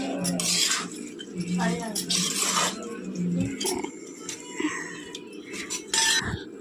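A spoon clinks intermittently against a bowl while chicken is mixed with turmeric, salt and ginger-garlic paste, with light metallic taps scattered under steady background noise.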